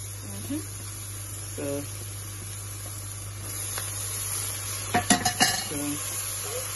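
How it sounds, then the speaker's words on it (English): Chilies, garlic and ginger paste fry in a pan for a chickpea curry, a low steady sizzle broken by a few quick clinks and scrapes of a utensil against the pan. "So we're gonna fry the chilies and the garlic in there for a little while."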